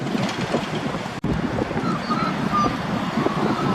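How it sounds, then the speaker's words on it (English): Strong wind roars against the microphone in a dense, steady rush at an outdoor vintage car run, with a brief sharp dropout partway through. "I know it's very windy today"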